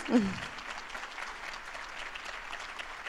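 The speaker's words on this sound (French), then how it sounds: "Je pense qu'on peut applaudir nos intervenants" Audience at a workshop on urban biodiversity applauding the speakers, a steady wash of clapping after a brief voice at the start.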